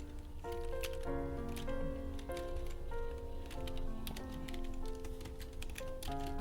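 Typing a command on a computer keyboard in Ubuntu: a quiet, steady patter of key clicks against a low tonal background hum.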